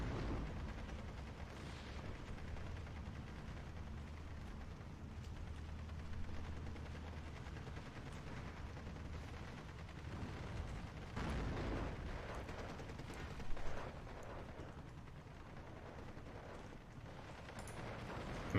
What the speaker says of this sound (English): Sniper teams are getting machine gunned down.